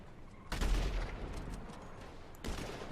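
Gunfire in GTA 5 comes as a dense rattling burst of shots from about half a second in. The shooting is moderately loud and steady, with a fresh burst near the end.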